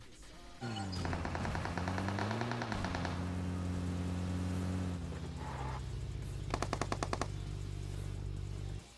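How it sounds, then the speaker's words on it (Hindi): Rapid bursts of automatic gunfire in PUBG Mobile on the Erangel map, sustained and loud, over a steady vehicle engine drone, with a sharper burst of shots near the end. "एक ही बंदा गोली चला रहा था"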